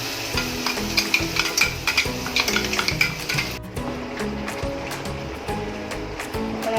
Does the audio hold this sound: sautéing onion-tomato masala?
yes